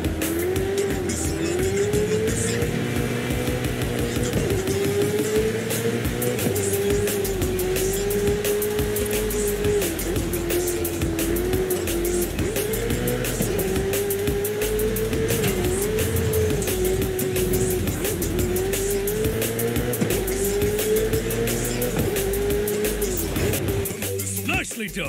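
A V10-engined car drives in the racing game Forza Horizon 5, its engine droning and rising and falling in pitch through gear changes, with occasional tyre squeal, while voices talk over it.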